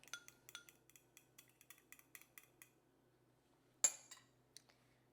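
An egg yolk is whisked with two spoonfuls of milk in a bowl, giving a quick run of light, evenly spaced clinks, then a pause and one sharper clink followed by a few more taps, all faint and close with no voices.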